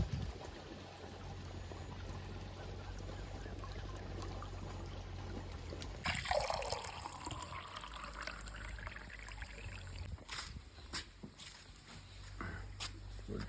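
Water runs steadily along a farm irrigation channel with a constant rushing trickle, then splashes and gurgles more unevenly as the flow shifts.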